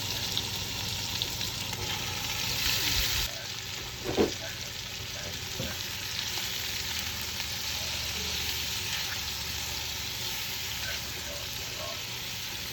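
Onions fry in a pan for chicken cacciatore with a steady, close sizzle and a brief clatter of a utensil early on, continuing evenly throughout.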